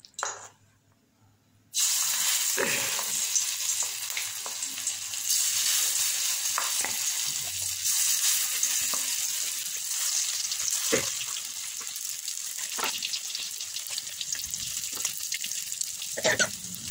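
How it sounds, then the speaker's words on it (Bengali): Small round bora fritters fry in hot oil, giving a steady bright sizzle close by that starts abruptly after a short quiet moment, with occasional clinks and stirring sounds throughout. "বড়াগুলো ভাজা হয়ে গেছে"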